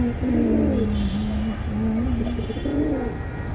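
Military breed pigeons coo in soft, repeated rolling calls, close and fairly quiet over a low background hum.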